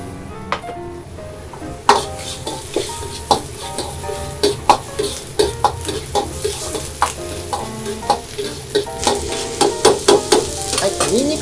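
Garlic and ginger stir-frying with onions over medium-low heat in a pan, with steady sizzling and a sharp, regular clack of a spatula scraping and tossing, close and loud with no talking.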